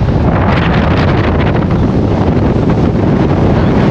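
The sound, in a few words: strong wind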